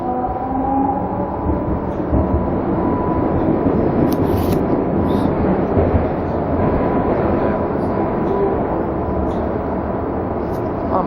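Steady broadband rumble of a metro train running along the tracks, loud and continuous, with occasional faint high squeals and murmured voices in the background.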